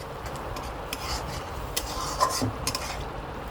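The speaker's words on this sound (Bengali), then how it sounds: "দেখুন আমি ভালোভাবে মিশিয়ে নিচ্ছি" Chicken being mixed with biryani masala in a pan or bowl, soft continuous stirring and rubbing with light scraping and occasional faint clinks of a utensil, quiet and close.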